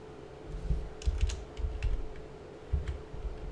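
Computer keyboard keys tapped in short, uneven bursts of clicks, close and fairly quiet over a faint steady hum.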